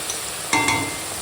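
Pabda fish cooking in mustard sauce sizzles steadily in a pan, a constant close frying hiss with a brief louder splutter midway, alone without talk.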